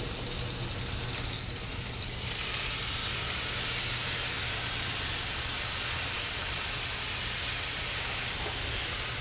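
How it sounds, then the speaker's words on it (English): Bouillabaisse stew poured into a hot pan of caramelized, salt-and-pepper-seasoned fish, giving a steady, loud broadband sizzle that holds evenly throughout with no voices over it. "And then we're going to add our stew."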